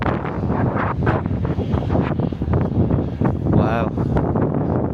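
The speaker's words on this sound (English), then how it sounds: "It's gotten a little bit more windy." Steady wind gusting over open water, a continuous loud rushing roar buffeting the microphone throughout, with brief voices and a faint boat-like hum mixed in.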